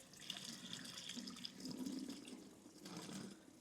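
Rinse water, tinged from soaking red chilies for New Mexico-style red chili, poured out of a container into a sink, a steady close splashing trickle running throughout with small surges, no voices.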